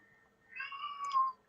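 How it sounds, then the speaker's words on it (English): A house cat named Zeke gives a single soft, drawn-out meow close by, rising slightly at the end, over a quiet room. "My cat says hello."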